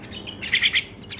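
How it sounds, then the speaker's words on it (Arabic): Mynah bird chicks chirp in a short burst of high, bright calls, several overlapping cheeps close by and loud, with no voices. "مخاليف مال طائر المينا،"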